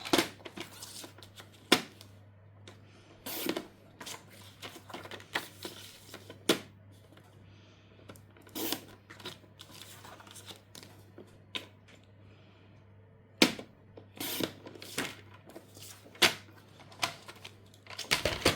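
Scattered sharp clicks and crisp snips of paper being cut, irregular and close, separated by quiet pauses, with no voices.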